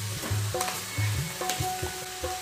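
About 500 grams of boneless chicken hits a frying tomato mixture for coconut chicken thoran, a short burst of close sizzling with rhythmic scraping and stirring thumps from a spatula, no talking.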